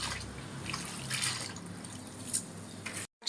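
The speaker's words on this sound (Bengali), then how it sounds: "শাকটা সুন্দর করে ধুয়ে নিতে হবে।" Freshly picked leafy greens being washed in water, steady close splashing and trickling with occasional drips, heard alone until a short cut near the end.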